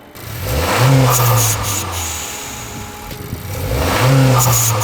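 A turbocharged Honda Civic FE fitted with an OMD blow-off valve revs up twice, each rise ending in a hissing release, with the engine note sweeping up and down at close range and no talk.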